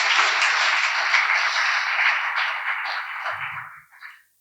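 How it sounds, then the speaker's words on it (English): An audience at a career guidance seminar for students applauds steadily for several seconds, the clapping thinning out and fading to silence at the end. "Let's give them a big round of applause for doing this."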